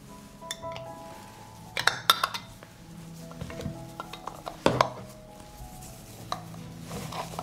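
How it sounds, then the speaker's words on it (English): Glass jars being closed with lids sterilized in boiling water, giving scattered clinks and metallic clicks of lids on glass at close range, with a few louder clusters of knocks among quieter handling noise. "I close the jars with sterilized lids."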